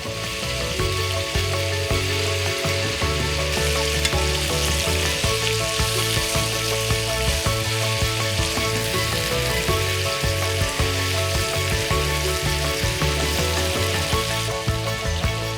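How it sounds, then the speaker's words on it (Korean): Loud, continuous sizzling of onions and mushrooms stir-frying with thinly sliced meat in a hot pan, with rhythmic scraping and stirring throughout. "고기가 익으면 양파와 버섯을 넣고 볶는다."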